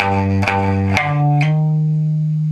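A distorted electric guitar power chord is struck a few times, then slides up a half step and rings out, loud and close.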